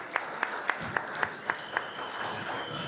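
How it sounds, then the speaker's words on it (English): Modest applause from an audience at a sommelier competition finale, a soft steady patter of many hands with a few sharper claps standing out near the start before the sound evens out. "Round of applause to all of the finalists one more time."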